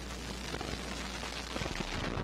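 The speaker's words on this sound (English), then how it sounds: "We have engine start. Liftoff Antares, NG-13 mission with Wallops Flight Facility." Antares rocket lifting off on the NG-13 mission from Wallops Flight Facility, a loud, steady, broadband roar with deep rumbling that holds without a break for the whole stretch.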